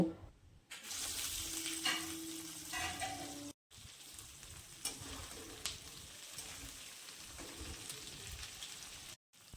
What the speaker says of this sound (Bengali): এবার পেঁয়াজটা লাল লাল করে ভেজে নিতে হবে